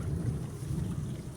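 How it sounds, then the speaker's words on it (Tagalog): Strong wind buffets a small fishing boat at sea, a loud, steady low roar and rumble of gusts battering the microphone. "Taas ng hangin."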